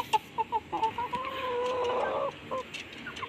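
A KUB rooster clucks in a series of short, close calls, then a longer drawn-out vocalization, followed by a few more clucks; no talking.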